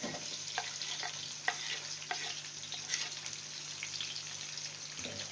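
Sliced onions frying in lightly warmed oil for a potato and moongre dish, giving a soft even sizzle with a few crackling pops and light spoon knocks; no one speaks.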